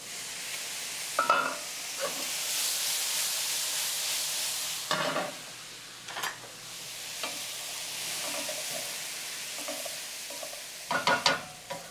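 Sausages sizzling in a pan on a home kitchen stovetop, a steady close frying hiss with brief louder crackles and stirring clatters breaking through now and then.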